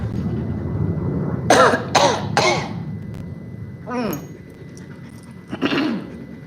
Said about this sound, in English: Hold your back and cough 2 or 3 times to clear your throat